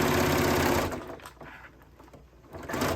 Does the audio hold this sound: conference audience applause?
no